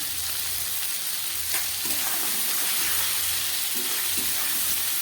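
Grated ginger and cumin powder sizzle steadily in hot oil in a pan for mixed vegetables, a continuous loud frying hiss with occasional stirring scrapes and no voices.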